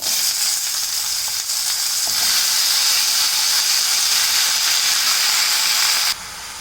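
Urad dal, chana dal, dry red chili and cut pumpkin fry in hot oil with a loud, continuous hissing sizzle. The sizzle drops off suddenly near the end.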